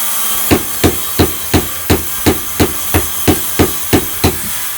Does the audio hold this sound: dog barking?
no